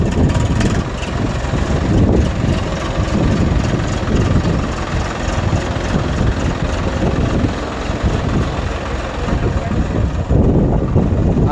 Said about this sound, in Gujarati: પાછળ ટ્રેક્ટર આવી રહ્યું છે